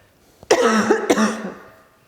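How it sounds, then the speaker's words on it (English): Two sharp, harsh coughs from one nearby person, the second following about half a second after the first, each with a raspy tail fading into quiet. "Sorry, I have to cough."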